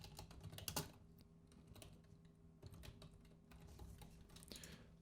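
Keystrokes clatter on a computer keyboard in a quiet room, a loose irregular run of soft taps with small clusters and short gaps, close by and without talk.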